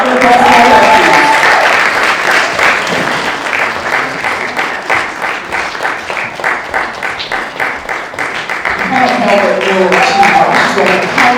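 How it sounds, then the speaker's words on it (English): Audience applause for an honoree at the Women of Valour gala in Paris, a sustained dense roar of clapping that holds steady for several seconds, with a speaker's voice over it at the start and end. "A round of applause for her."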